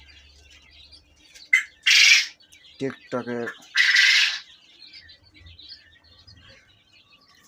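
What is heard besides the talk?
young Japanese quail chirping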